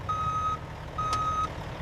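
Two steady electronic reversing beeps sound from a truck at a mangosteen syrup factory, moderately close over a low machinery hum, with no talking.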